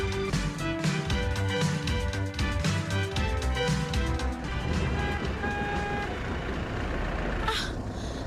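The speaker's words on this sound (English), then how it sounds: "The bus is here, let's hurry." A bus pulling up at a stop next to a market, a loud continuous engine rumble with layered tonal hum throughout and a brief hiss near the end, with no talking.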